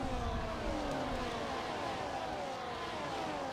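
F1 cars in a racing video game, a McLaren fighting a V-Carb for position, whine steadily with engine notes sweeping downward as they pass. The sound is continuous and fairly faint, and no one speaks over it.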